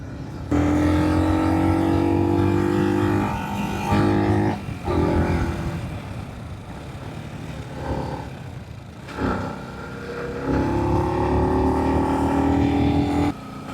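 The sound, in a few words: motorbike with off-road tyres riding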